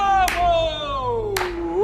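Two sharp hand claps in a Korean film scene about the Big Mouse prison story, landing roughly a second apart over a sustained tonal music or voice line, close and fairly loud.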